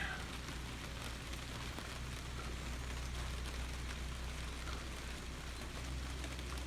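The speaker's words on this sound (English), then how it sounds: "I can hear the rain." Steady rain patters and hisses evenly throughout, a constant wash of sound with a low rumble beneath and no voices.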